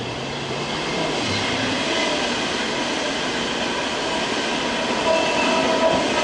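An IC intercity train rolls into München Hbf, a steady broadband rumble of wheels and carriages with faint squeals, loud and continuous throughout without talk.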